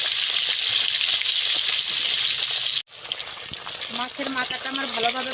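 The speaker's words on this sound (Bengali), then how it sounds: "মাছের মাথাটা আমার ভালোভাবে ভাজা হয়ে গিয়েছে" A fish head fries in hot oil with a loud, continuous crackling sizzle; a brief clatter midway is followed by renewed sputtering and bubbling.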